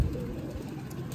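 Pigeons settled back home after a flight coo faintly at a loft, a low, soft burble under steady background hiss with a high-pitched electronic tone.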